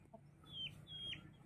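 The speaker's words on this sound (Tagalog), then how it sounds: "Ito yung aking tandang." Native rooster clucking in two short, soft calls, set against a steady low rumble of ambient noise.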